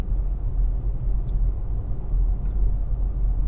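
A VW ID7 electric car driving on wintry roads gives a steady, loud low-frequency road and cabin rumble with no engine note, continuous and even throughout.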